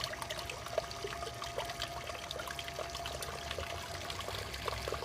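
Water runs steadily into a gold panning setup, a continuous soft trickle and pour with faint bubbling, low in level and uninterrupted for the whole stretch.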